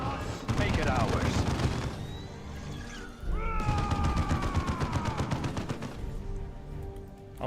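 Battle gunfire in Dawn of War 2 against Tyranids: rapid, dense bursts of shots fill the scene almost continuously, layered with game sound effects and voices talking over the action.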